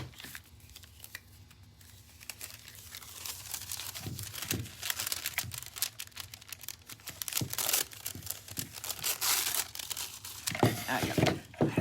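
Thin foil crinkles and rustles as it is pressed onto a Halloween decoration, soft at first and then denser and louder with scattered crisp crackles, close by and without talk.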